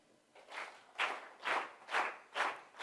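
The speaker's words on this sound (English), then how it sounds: "Now clap again in unison." An audience claps together in unison, six evenly spaced collective claps at a steady rhythm, moderately faint in a room with no talking.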